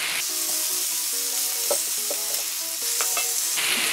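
Beef short ribs sear in an Instant Pot with a loud, continuous sizzle and a few scraping clinks as pieces are turned, close and steady with no talk.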